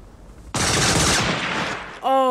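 Sniper gunfire in the 1987 film Full Metal Jacket, a single loud sharp shot with a long rolling echo, followed by a voice speaking at the end.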